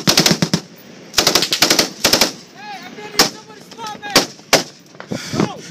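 Heavy machine gun fire in a U.S. Army firefight, loud rapid bursts of rounds cracking in quick succession with scattered single shots in between, close and harsh, with shouting voices mixed in.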